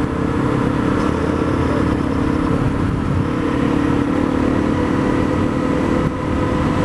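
A Honda CRF250L dual sport motorcycle accelerating on a sunny winter ride: a loud, steady engine drone with a rough, buzzing exhaust held close, and no one talking.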